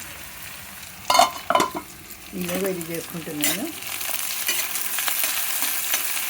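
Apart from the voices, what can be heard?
vegetables frying and being stirred in a pan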